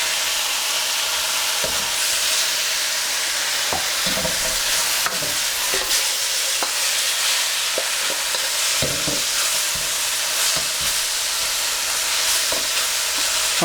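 Chicken and BBQ pork frying in a pan with blended sauce, a loud, steady sizzle with a frying hiss and scattered stirring clinks and scrapes throughout.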